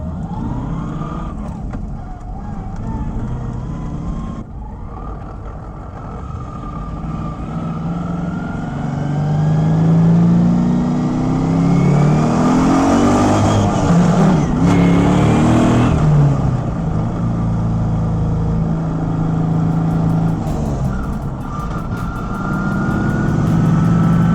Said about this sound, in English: Got the engine up to temp, so we'll give it a little pull getting on the highway here